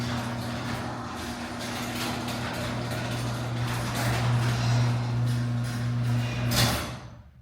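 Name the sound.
gate being shut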